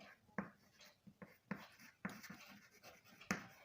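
A pen writes on paper or a board while working a tax calculation, giving faint, scratchy strokes and taps in short irregular bursts, close and quiet, with no talk.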